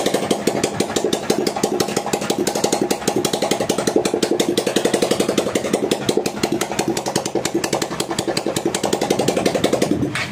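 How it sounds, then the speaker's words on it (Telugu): A vehicle engine being run after engine bedding settles into a loud, close idle with a fast, steady, rhythmic chug that holds unchanged to the end. "బండి అయితే స్టార్ట్ చేశాను."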